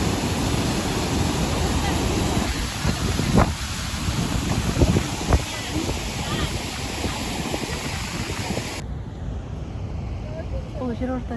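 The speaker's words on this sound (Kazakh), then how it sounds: "Бұл жерорта теңізі." Mediterranean Sea waves washing along the Turkish coast, a loud, continuous broadband surf roar heavily buffeted by wind on the microphone, with a few stronger surges before the sound abruptly thins near the end.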